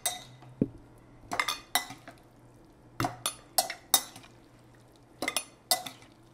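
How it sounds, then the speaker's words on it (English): A spoon scoops hot food from a pot into a thermos, making a series of sharp metallic clinks and scrapes in irregular bursts with short pauses between, close by and without talk. "I'll just spoon half of this right into the thermos"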